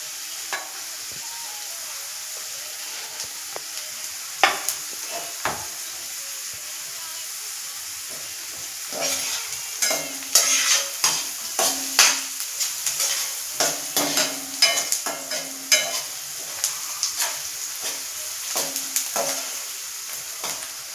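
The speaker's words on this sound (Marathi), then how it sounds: "कांदा भाजत असतानाच मीठ आणि हळद घालून घ्यायची, म्हणजे कांदा व्यवस्थित आणि लवकर भाजला जातो." Onion frying with salt and turmeric, a soft steady sizzle, then clusters of scraping and clattering stirs growing busier through the second half, heard close.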